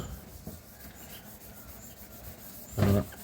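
Sandpaper rubs back and forth across a plastic car headlight lens during a hand restoration, a steady close scratchy rasp with a louder, sharper stroke near the end and no talking.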